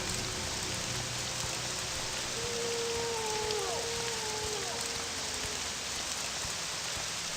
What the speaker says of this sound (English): And hope this rain stops.